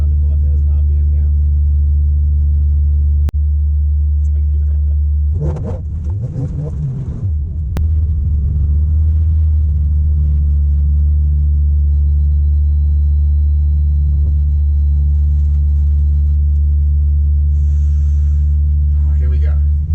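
Hillclimb race car engine holds steady near 5,000 RPM on launch control, a loud, deep, sustained drone close by, with a short burst of rougher noise and voices talking over it.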